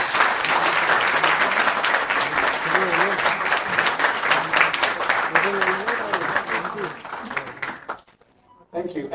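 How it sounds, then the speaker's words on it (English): Dense, sustained audience applause at a book introduction event in India, loud and continuous for several seconds, with voices faintly mixed in, before it cuts off abruptly near the end. "Can you give a big round of applause?"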